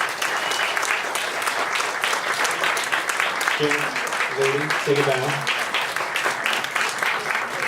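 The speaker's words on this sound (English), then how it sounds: "Let's have a big round of applause for all our candidates." Applause for candidates at a merchants association council forum, steady dense clapping from an audience indoors throughout, with a voice briefly speaking over it.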